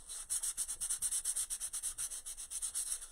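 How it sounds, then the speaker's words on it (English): Hand sanding wood with 150-grit sandpaper, a close, rhythmic rasping of quick back-and-forth strokes, about eight per second, repeating steadily without pause. "This grade of sandpaper is not going to take off a lot."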